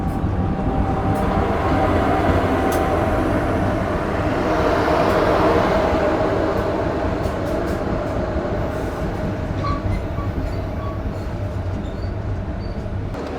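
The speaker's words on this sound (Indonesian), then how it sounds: "ini masuk stasiun Lubuk Alung bersilang dengan kereta api Lembah Anai, ditarik BB 303 yang tadi kita ketemu nih" Train hauled by a BB 303 diesel locomotive passing at Lubuk Alung station, a steady loud rumble and clatter close by, with brief higher squeals and tones near the end.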